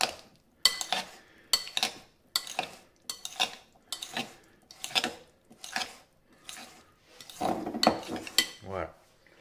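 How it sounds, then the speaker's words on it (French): Utensils clink and scrape in a bowl in quick repeated strokes as an avocado, tomato and feta topping is mixed, close and fairly quiet with no talk. "Et on mélange."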